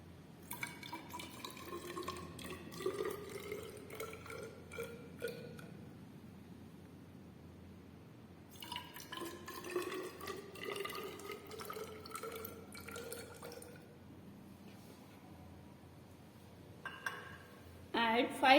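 Distilled water poured into glass Nessler cylinders in a chemistry lab, two bursts of soft trickling and filling separated by a quieter pause, faint and close.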